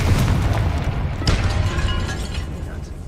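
A Confringo blasting spell goes off in Hogwarts Legacy inside a tomb by an altar: a deep, booming burst with a sharp crack about a second in, trailing into a low rumbling, echoing decay under a steady ambient drone.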